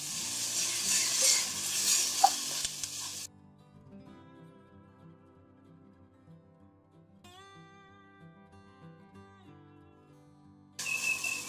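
Egg fried rice (khao pad khai) is stirred and tossed in a hot pan with sizzling and scraping. The noise comes in two bursts, one at the start and one at the end, with a quiet gap between them where soft tones play.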